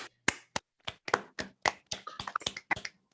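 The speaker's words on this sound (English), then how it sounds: "Let's give Azqa a round of applause." Audience applause for a presentation at a Delft cyber security event: a few scattered, sharp hand claps from a small group, uneven and sparse over about three seconds, close and fairly clear with no talk.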